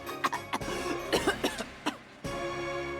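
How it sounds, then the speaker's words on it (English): A voiced video game character coughs repeatedly in short, sharp bursts, several close coughs with brief pauses, ending in a longer rasping sound. "You were doing so well, and then you just started coughing."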